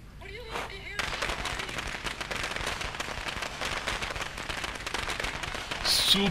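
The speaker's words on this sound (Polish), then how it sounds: "Petardy." Firecrackers go off in the video game Dead Rising 2 as a rapid, dense crackle of sharp pops that keeps up for several seconds, loud and close, ending in a brighter burst.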